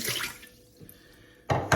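Water pours into the inner pot of a Ninja Foodi 15-in-1 pressure cooker over rice, a close splashing rush that tapers to trickles, then two short louder splashes at the end.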